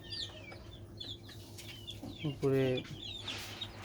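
Young native chickens cluck in short bursts with a louder stacked call near the middle, over a steady low hum; a voice speaks briefly.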